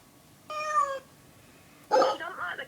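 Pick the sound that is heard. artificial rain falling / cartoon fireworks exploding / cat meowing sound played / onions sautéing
cat meowing sound played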